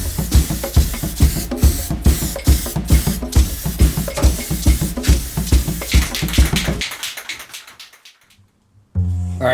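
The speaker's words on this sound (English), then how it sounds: "let's go out to our spray shed and varnish this thing up" Rhythmic bursts of hissing varnish from a spray can onto a Game Boy in a spray shed, a rapid run of short pulses repeated, tapering off before a brief silence and a final hiss.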